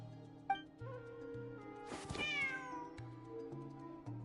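A cat in the video game Genshin Impact gives one clear, drawn-out meow at moderate volume, set against soft looping game background music.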